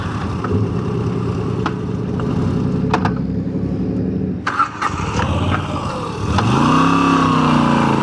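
A Moto Guzzi V7 Stone Corsa motorcycle engine runs steadily up close, with a clunky gear shift mid-way that briefly cuts the drone before the revs climb again. No one talks.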